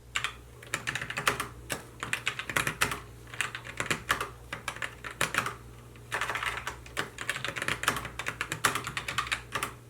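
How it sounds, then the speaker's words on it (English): Rapid, steady typing on a Roccat Vulcan 2 Max keyboard with Titan II linear switches, close-up dense clacks and key bottoming in continuous bursts with brief pauses, no voices. "The Titan II sound and feel like other linear switches, but slightly quieter."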